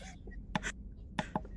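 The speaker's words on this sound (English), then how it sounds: "I had to cough." A few short, sharp coughs from a person at a tabletop role-playing session, spaced apart and fairly close, with a quiet background.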